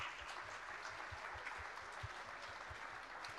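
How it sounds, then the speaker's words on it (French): Audience applause greeting climate scientist Valérie Masson-Delmotte as she walks onto the stage at a Paris keynote, a steady, dense wash of clapping that holds at an even level throughout with no voices over it. "Sous vos applaudissements"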